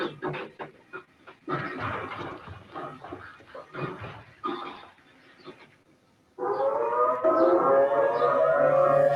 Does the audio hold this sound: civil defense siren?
yes